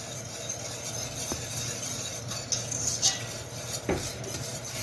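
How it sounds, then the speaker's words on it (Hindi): A spoon stirring custard into boiled milk in a pot over medium heat, with soft scraping and a few sharp metallic clinks against the pan's side over a low, steady stovetop hum. "अब इसमें मैं कस्टर्ड डालूंगी और हिलाती रहूँगी साथ साथ।"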